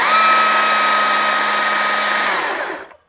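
An electric chainsaw runs with a steady high motor whine and a bright tonal hum, close and fairly loud, then spins down and cuts off near the end; no one speaks over it.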